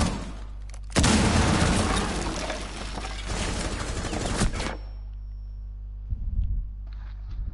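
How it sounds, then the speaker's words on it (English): A shotgun fired over and over in Rainbow Six Siege, merging into a loud, dense burst of booming blasts that lasts several seconds, then cuts off to quiet with a brief low thump afterward. "He just spammed the shotgun."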